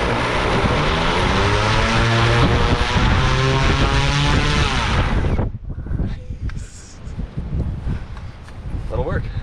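A paramotor propeller used as a blimp drive runs in a thrust test, a loud buzzing engine roar with strong harmonics that cuts off abruptly about halfway, leaving quieter clatter and handling noises.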